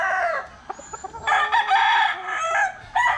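Rooster crowing close by in a long, strained call, with softer clucks from the same bird and other fowl around it.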